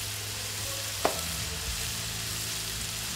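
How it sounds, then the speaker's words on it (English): Chicken shawarma pieces sizzle in a hot pan with a steady, close frying crackle and one small sharp tap partway through, and no voices. "while my chicken is nicely sizzling"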